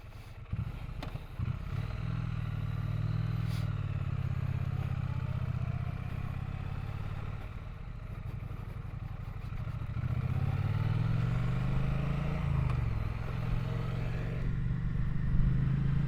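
A Triumph Bonneville T100 motorcycle ridden through Arizona desert gives a steady, close engine drone mixed with wind rush, with a brief rise and fall in pitch partway through; no voices.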